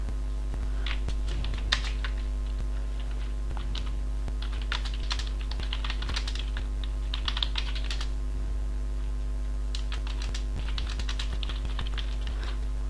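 Rapid typing on a computer keyboard, with quick clustered bursts of key clicks separated by short pauses, fairly close and steady over a constant low background hum.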